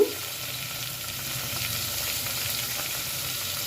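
Drumstick pieces cooking in a sizzling pan of mixed vegetable curry, giving a steady, even frying hiss with faint stirring beneath, close and constant throughout.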